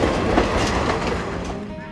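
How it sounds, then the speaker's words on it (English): Train rolling along the Kanchanaburi railway in Thailand, with a close, loud rumble and rhythmic wheel clatter on the rails, fading slightly over a couple of seconds. "The train now returns to Kanchanaburi"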